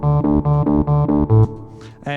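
A bright electronic synth lead in the style of a song's intro plays a rhythmic run of short repeated notes, then a longer held note that decays before a final note begins.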